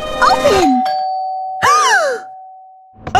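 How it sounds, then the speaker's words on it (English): Doorbell chime in Minecraft: two clear two-tone ding-dong rings with a steady sustained tone between them, loud and close, with a brief shouted word at the start. "Mikey, that was the doorbell!"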